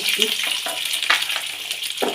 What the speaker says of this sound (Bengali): তেলের মধ্যে পেঁয়াজটা দিয়ে ভেজে দিলাম।